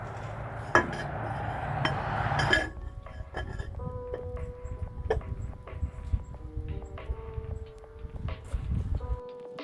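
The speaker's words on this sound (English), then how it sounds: "Now the lid's going to go back on." A tractor's metal oil filter lid is fitted back in place during maintenance, with close, light metallic clinks and taps scattered over a low background hum, following an earlier louder whoosh.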